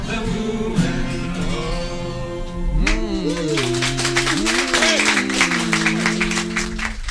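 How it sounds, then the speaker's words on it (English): A festival folk club audience applauding over sung and played folk music, the crowd's broad clapping building up loud beneath the sustained tune. "These festival folk club audiences always clap through the jingle."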